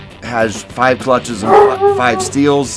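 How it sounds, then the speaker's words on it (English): A dog barks and yips in a home workshop during an automatic transmission rebuild, a quick burst of close, loud barks mixed with someone talking. "That's our dog"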